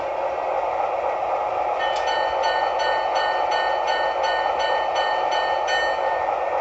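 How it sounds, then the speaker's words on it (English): A small electronic bell dings repeatedly in a steady rhythm over a constant mechanical hum from a BlueRail model train run with a game controller. "There's our bell."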